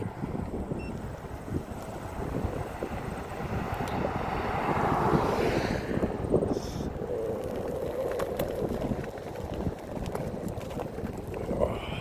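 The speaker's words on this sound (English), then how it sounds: "Now I got a crosswind." A strong crosswind buffets the microphone on a Hiboy S2 Pro electric scooter cruising through city streets, a constant rough roar of gusts that swells and eases with no one speaking.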